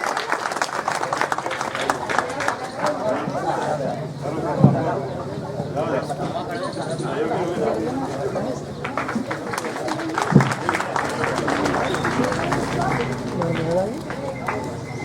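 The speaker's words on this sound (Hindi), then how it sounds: "एसपी सर का स्वागत करते हुए एक बार जोरदार तालियां" Crowd at a police outpost inauguration claps to welcome the police superintendent, a sustained, fairly soft patter of many hands running beneath continuous talk over a loudspeaker, with a couple of sharp thumps.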